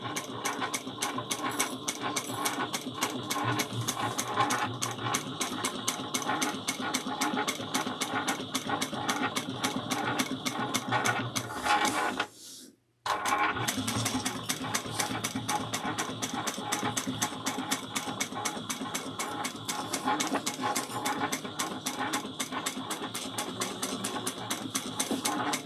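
A sewing machine stitches a bag with a rapid, even mechanical chatter close by, pausing for a moment midway before the needle rhythm picks straight back up and continues.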